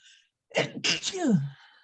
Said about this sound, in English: Sorry for the sneezing.